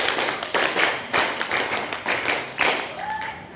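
Elementary schoolchildren at an Isra Miraj gathering clap on command, with a run of sharp, close hand claps and taps repeating in a loose rhythm over a busy room.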